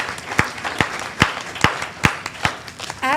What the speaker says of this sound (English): Join me in giving these ladies a round of applause and a great congratulations for all their hard work